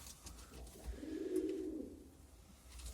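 A single pigeon coos in a coop kept inside a shop, one drawn-out low murmuring call near the middle, close and quiet, with no other voices.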